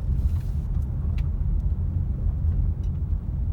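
A car driving up into the hills past big homes, heard from inside as a steady low engine and road rumble with faint clicks and rattles, no talk.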